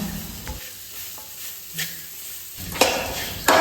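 Semolina and pineapple roast together in a pan as a spoon stirs and scrapes through them, with a soft sizzle running between a few sharp clinks and scrapes against the metal.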